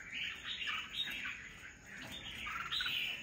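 A caged red-whiskered bulbul gives bright, close chirps and squawky whistled calls in short bursts, with a brief pause in the middle before another run of sharp notes.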